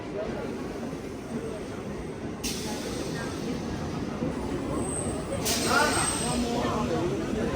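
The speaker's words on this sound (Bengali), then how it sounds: "ফাইনালি ট্রেনে উঠে গেছি শিয়ালদা যাওয়ার উদ্দেশ্যে।" Rumbling interior of a commuter train bound for Sealdah, with steady broadband clatter and rolling noise throughout, brief brighter hiss bursts partway through, and faint background voices.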